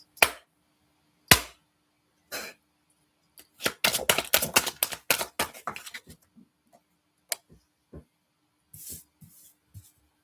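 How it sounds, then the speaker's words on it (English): Tarot cards are being shuffled in bursts of rapid, crisp flicking clicks, with a few sharp single snaps and quiet pauses between the bursts. "I shuffle some out."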